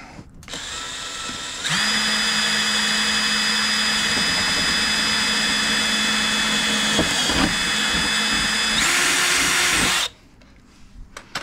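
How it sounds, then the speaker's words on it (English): Power drill boring holes for a Jeep modification, a loud steady high-pitched whine lasting about eight seconds with a brief dip midway, starting and stopping abruptly against a quiet background. "we work on this, drilling these holes to get this curved in nice and tight"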